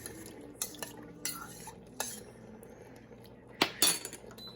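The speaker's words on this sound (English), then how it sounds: "Give it one more stir" A utensil stirs rice in a pressure cooker pot with a trivet inside, making scattered scraping strokes and a few sharp metal clinks, close and fairly quiet, with no talk.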